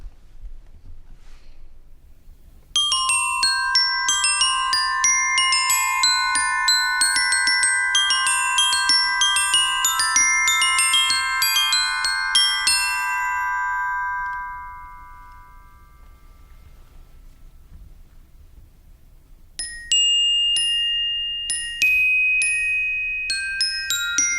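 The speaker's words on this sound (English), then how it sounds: "Plastic or metal-headed mallets are used to strike the steel bars" Bright, ringing steel glockenspiel bars are struck with plastic or metal-headed mallets in a flowing run of notes that sustain and overlap, then fade. After a pause, a few more chimes ring out.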